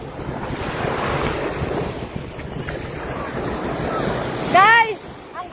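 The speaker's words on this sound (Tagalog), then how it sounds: "Ang ganda ng dagat. Oh, guys, diba? Ang ganda, may alon." Sea waves breaking on a beach in Dubai, a continuous rolling wash of surf blended with gusty wind noise on the microphone, with a person's voice and a brief sharp sound near the end.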